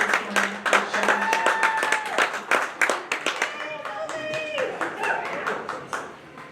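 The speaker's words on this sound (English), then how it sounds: "All right, everybody, let's give Olivia a big round of applause for bringing her cow out this morning." Applause from the crowd at a county fair dairy cow show, a scattered run of hand claps going on throughout, with people talking over and among them.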